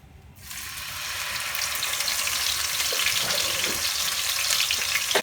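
Ginger-garlic paste and green chilies hit hot oil with a sudden loud sizzle that continues steadily and evenly, dense crackling frying close by with no voices.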